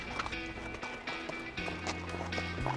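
Hooves of a vaquejada horse move sideways from one side to the other during a corrective training exercise, a few irregular clip-clop thuds mixed with faint background sounds.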